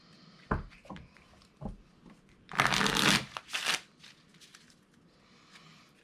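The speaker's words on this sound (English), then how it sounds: "we're going to shuffle them together." A deck of artifact cards for a tabletop game is shuffled by hand: a few soft card taps, then two loud riffling bursts in quick succession, close and clear with no talk.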